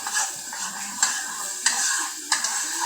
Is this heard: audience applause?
no